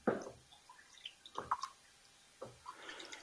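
Turbo yeast and dextrose moonshine wash being stirred, giving a few soft, quiet liquid sloshes and drips in separate bursts with pauses between.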